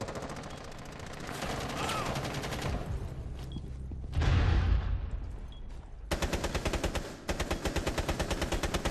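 Bursts of automatic gunfire in Rainbow Six Siege, with rapid rattling volleys broken by a short pause and a heavier blast. The shooting is loud and continuous and stays in the foreground.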